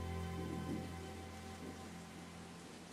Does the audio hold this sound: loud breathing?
no